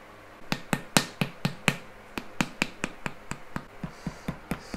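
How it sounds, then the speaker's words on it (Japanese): Steady series of sharp slaps from a paddle beating a slab-built clay vase form into a rounder shape, about fifteen evenly spaced, close and crisp strikes with no talking. "叩いてるだけでだんだん丸くなってくる。"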